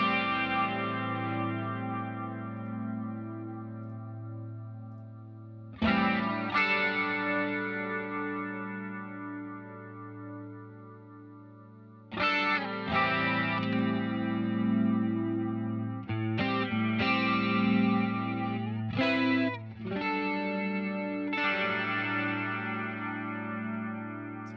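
Electric guitar on a single-coil pickup with a compressor, played through a Line 6 Helix, ringing sustained chords and notes with effects, several fresh strums cutting in every few seconds and letting the tails decay; no speech.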